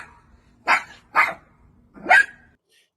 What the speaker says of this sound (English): you hear the dog that keep barking in the background